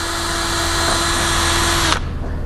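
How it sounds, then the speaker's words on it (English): A power drill whines loudly at a steady high pitch while boring a hole in the aluminum skin of an Airstream trailer, then cuts off abruptly near the end. "I'm going to grab my drill bit with the drill guide on it."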